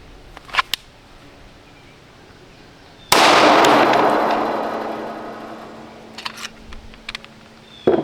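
A Wilson SFX9 pistol fires a few sharp shots outdoors, with one loud report ringing out and decaying over several seconds, and fainter scattered shots before and after it.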